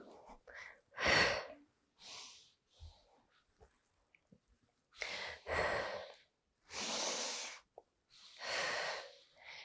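Heavy breathing during a gliding squat workout: several loud, breathy exhales and sighs come in bursts with pauses between them. No one speaks.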